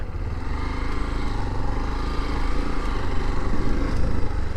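Constant loud engine drone of a motorcycle on an evening ride from Gevra to Korba, steady and close, with no pauses.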